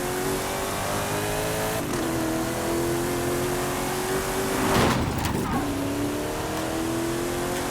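Racing V8 engine of a Mercedes AMG Hammer Wagon in Forza Horizon 5, revving and shifting through gears, a sustained mechanical drone rising in pitch with a brief burst midway, heard at moderate volume.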